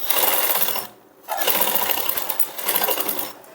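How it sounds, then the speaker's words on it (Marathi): A sewing machine runs close and steady, stitching a princess-cut blouse, pausing briefly near one second and again near the end before each burst resumes. "आता एक शिलाई मारून झाली"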